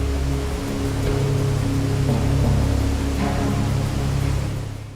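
The Trummelbach falls in the Lauterbrunnen valley of the Alps roar with a dense, steady wash of loud water noise, deep and continuous throughout, with no voices.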